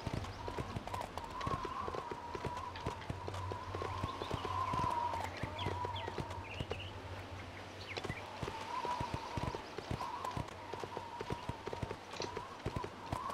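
Horse hooves gallop in a quick, steady clip-clop rhythm in Go Vacation, close and clear over a constant low hum.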